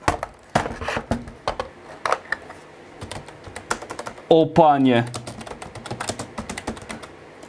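An old Acer Pentium MMX laptop keyboard is typed on, giving irregular clicky key presses throughout, close and fairly clear, with someone briefly speaking in between.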